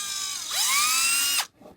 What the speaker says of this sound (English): so actually I've got it mounted in the drill